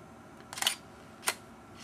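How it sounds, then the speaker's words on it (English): A DSLR camera fires its shutter at 1/320 s and f/2.8, giving two crisp, close mechanical clicks about three quarters of a second apart in a quiet room. "So let's take a photo."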